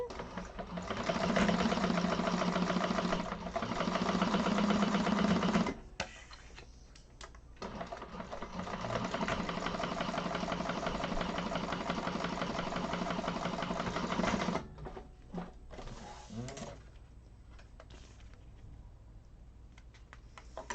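A sewing machine runs in long steady bursts while chain stitching handbag pieces in a class, a sustained mechanical whir that stops and restarts, with quieter pauses of handling noise between runs.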